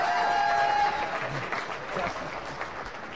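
Conference audience applauding a speaker, a broad wash of clapping that starts dense and tapers slightly, with a faint tone at the start and crowd murmur underneath.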